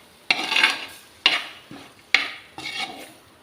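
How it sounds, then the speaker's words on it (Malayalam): Squid curry stirred in a frying pan: four distinct scraping strokes of a spoon across the pan, roughly evenly spaced, close and fairly loud, with a light sizzle underneath and no voices. "നന്നായി ഇളക്കി കൊടുക്കണം."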